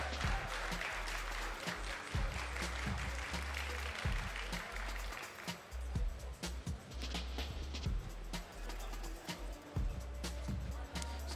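Supporters in the crowd at a live 1v1 tournament match applaud and cheer steadily throughout, a dense wash of clapping with faint voices in the background.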